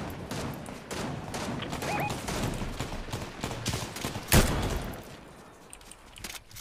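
Gunfire during a firefight in Fortnite, with scattered shots and bursts throughout, one sharp loud crack near the middle, and faint voices in the background.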